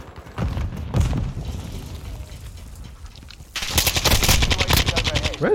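Automatic gunfire in a video game comes in rapid bursts, a short one near the start and a dense, loud rattling burst toward the end, with faint background game sounds between them.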